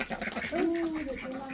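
Ducks in a village pen quack and call faintly for a moment, with one drawn-out nasal call standing out over a quiet rural background.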